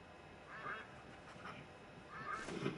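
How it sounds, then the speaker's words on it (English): Scattered duck quacks come several times, close together in a short burst. They are part of the ambient wildlife sound in a hunting video game set on a Scotland map, playing over a low, even background. "why put the duck ambience in if you can't hunt it?"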